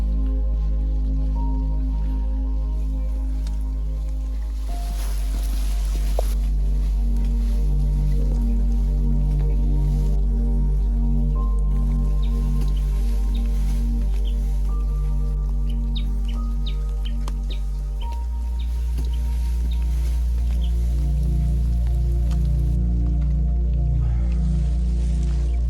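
Rain dripping on the Ambangeg trail of Mt. Pulag, with scattered drips and squishy wet sounds, occasional faint bird chirps and a low steady rumble underneath.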